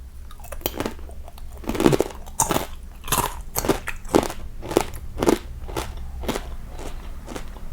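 Crunchy bites and chewing of crispy fried pork belly tossed with chili, a close, repeated crackling crunch in a steady rhythm.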